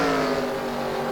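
Race cars roar around the Rockingham oval during a late lap of an FSB Racing Chicken Run event, a loud, steady engine drone with no voices.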